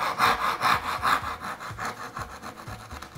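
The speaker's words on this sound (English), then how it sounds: "when I cut these tails off, I like to leave a little bit of material to chisel back to" Hand saw cutting dovetail tails on wooden drawer sides, a close, rhythmic back-and-forth rasp of about seven quick strokes with no talking.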